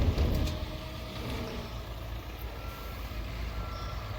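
Truck reversing beeps from a construction site in a multiplayer construction simulator game, sounding as a faint steady beeping over a constant engine drone and broadband background noise, with no talk.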